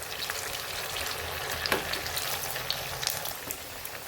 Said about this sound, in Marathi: छान कलर येऊपर्यंत तळायचं आहे.